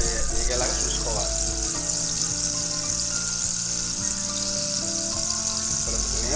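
Prawns frying in oil for prawn pickle, a steady, dense sizzle that runs without pause, with faint tonal sounds in the background.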